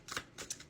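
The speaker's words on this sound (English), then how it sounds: "I'm gonna pause and shuffle some more" A deck of tarot cards being shuffled, giving two or three soft, quick riffling bursts close by in a quiet room.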